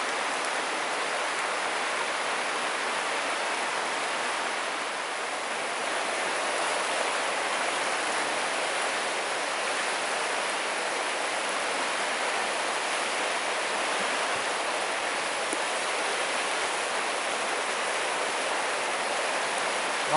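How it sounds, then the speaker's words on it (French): A swollen, rough river rushing in a constant, dense roar of water, loud and unbroken throughout with no voices. "la rivière est démontée"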